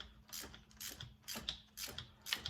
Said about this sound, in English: making sure I've got the wrench on there, go ahead and disconnect it